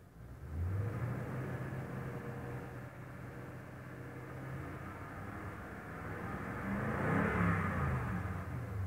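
A 2016 Toyota Tundra engine revs as the accelerator is pressed, a steady close rumble that swells with rising pitch early on and again more strongly near the end.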